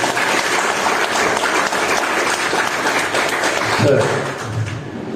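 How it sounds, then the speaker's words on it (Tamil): Audience applause in a church fills the space after a homily, dense and sustained clapping at steady loudness for several seconds before easing off slightly at the end. "அவருக்கு எல்லாம் சேர்ந்து ஒரு கைத்தட்டை கொடுக்கிறோம்"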